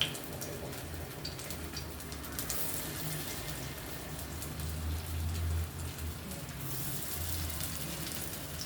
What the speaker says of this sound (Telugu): నూనె కాగిన తర్వాత ఆయిల్ హీట్ అయిన తర్వాత పీసెస్ నిదానంగా వేసుకోవాలండి